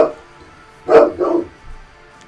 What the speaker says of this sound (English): There's my dog in the background.